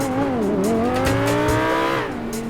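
A Lamborghini in a video game revs loudly, its engine pitch climbing through gears and then dropping off, with short bursts of tire squeal over the steady roar.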